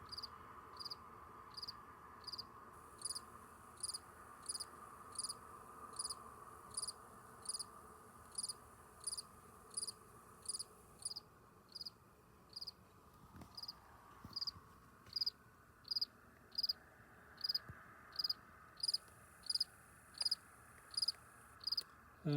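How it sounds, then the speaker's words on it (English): Crickets calling at night under outdoor insect-survey lights in New Brunswick, Canada, a steady, evenly pulsed chirping that repeats throughout over a soft low background hum, faint and somewhat distant. "There's lots of crickets calling."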